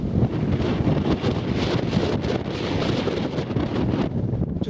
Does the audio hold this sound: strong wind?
yes